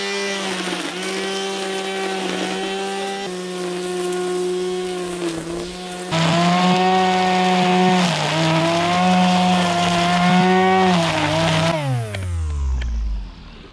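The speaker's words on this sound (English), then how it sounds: "I have to mow the grass by the pool." A lawn mower runs loud and close, its engine droning steadily as it cuts grass by a pool at a Russian dacha, revving higher partway through and then winding down to a stop at the end.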